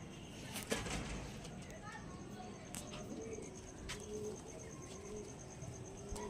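Caged Kalshira pigeons coo softly in low, repeated murmurs, with scattered clicks and a faint high steady tone in the background.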